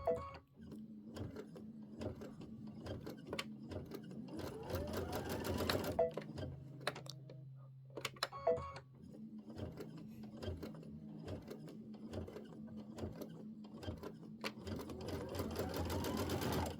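A sewing machine stitches a pieced quilt block slowly, its needle running in a steady rhythm of close, moderately loud clicks with a brief pause midway before it resumes.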